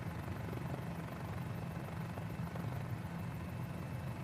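A small Mini-500 helicopter's rotor and engine, near an airport, making a steady, even throbbing drone that keeps a constant level with a faint rhythmic beat and no talking.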